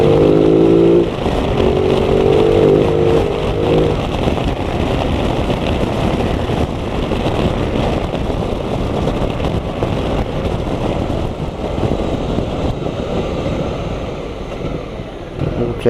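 A Ducati motorcycle cruising on a sunny ride toward the lakes, its engine droning steadily under heavy wind buffeting on the microphone, loud and constant, with a brief rising engine note near the start.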